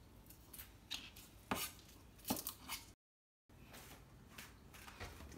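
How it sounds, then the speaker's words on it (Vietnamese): A knife chops garlic chive flowers on a cutting board in a home kitchen, giving a quiet, irregular run of close taps and thuds with a short silent gap in the middle. "bây giờ mình cắt xong mình xào nha"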